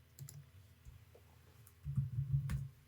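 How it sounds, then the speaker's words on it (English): Computer keyboard keys click quietly in a few short bursts, soft and close, with a slightly busier run of taps near the end. "so I'm going to type in"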